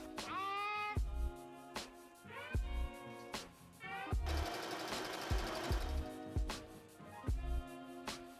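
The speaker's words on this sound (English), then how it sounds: "I'm going to sew it across the top edge of the shorts." A sewing machine stitches a waistband onto the top edge of a pair of shorts in short bursts of rapid whirring, with a longer run in the middle and a person's voice breaking in between the bursts.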